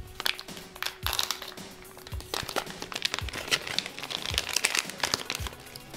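Plastic snack packet of smoked quail eggs being opened and handled, with repeated close crinkling and crackling bursts and sharp taps, irregular and fairly loud, no talking.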